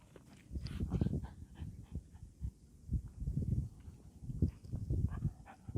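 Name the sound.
dogs on a hike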